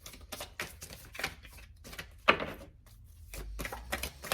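A tarot card drawn from a deck during a reading, with soft papery shuffles and flicks, one sharper snap near the middle, all close and quiet with no talking.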